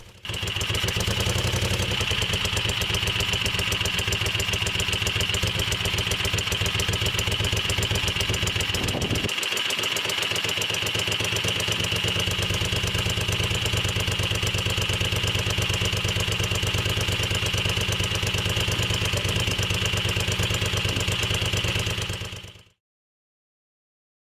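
A Moto Guzzi Le Mans 3 motorcycle engine idles on both cylinders with the throttle held slightly open to keep it from stalling, making a steady, loud, even mechanical drone that runs continuously and then cuts off abruptly near the end.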